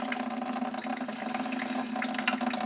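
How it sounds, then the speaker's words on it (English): Oily coolant drains steadily from the radiator of a 2013 Jeep Wrangler, a continuous loud gushing, splashing pour into a container with no gaps or talk. "here's what we're draining from the radiator. Oil."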